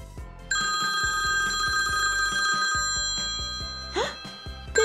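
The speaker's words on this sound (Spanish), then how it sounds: "voy a llamar a Cuca por teléfono" A telephone ringing in a children's toy-doll scene, a steady electronic ringtone trill sustained through the clip, close and fairly loud, with a brief rising squeak and soft thumps near the end.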